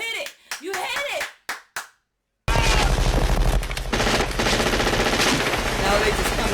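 Heavy automatic gunfire from the movie Predator roars loud and continuous after a short pause, preceded by excited shouting from people watching.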